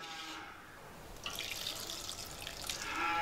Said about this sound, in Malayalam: ഇനി ഒരു 2 ടേബിൾ സ്പൂൺ വെള്ളം ഒഴിച്ചാൽ മതി